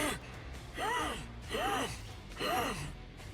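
The League of Legends character Fiddlesticks breathes heavily, three slow raspy gasping breaths rising and falling at an even pace, eerie and close, with no talk.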